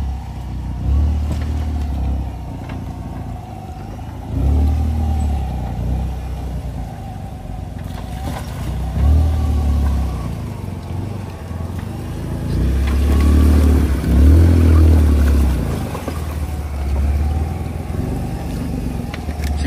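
An off-road vehicle crawls slowly over rough farm terrain, its engine rumbling low and steady with repeated swells of throttle and occasional knocks as it picks its way along, with no speech.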